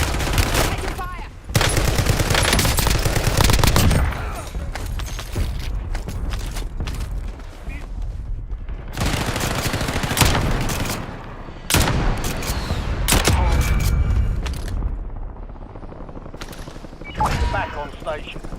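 Gunfire in Call of Duty Black Ops 6 Warzone on the Verdansk map: rapid automatic bursts and single shots rattle on and off, loud and close, mixed with mechanical clatter and brief in-game voice callouts.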